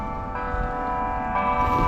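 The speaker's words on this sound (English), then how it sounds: "Pretty cool with the bells" Church bells ring out near a golf course, a sustained, layered metallic tone that swells again partway through, steady and fairly loud outdoors.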